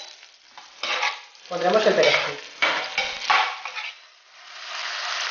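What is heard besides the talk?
prawns frying in oil with garlic, chili and parsley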